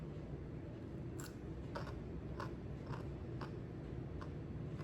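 Biting and chewing a fresh garden-grown eating cucumber, a series of about six crisp, evenly spaced crunches over a steady low background hum.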